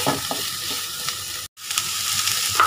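Green chili stir-fried in a pan for restaurant-style gobi manchurian, with a steady close sizzle of hot oil, spatula scrapes and stirring, and a brief cut of silence midway.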